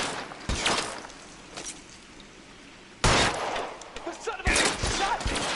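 Gunfire in L.A. Noire comes as several sharp bursts of shots, each followed by rattling echo, with a quieter gap in between and a loud volley near the end.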